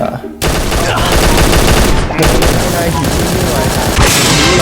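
Rapid bursts of gunfire from the shooter game Bullet Angel crackle almost continuously, loud and dense, with brief gaps between volleys.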